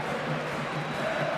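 Dense football stadium crowd roaring steadily during stoppage time of an Argentina v England match, a constant loud wash of massed voices with no breaks.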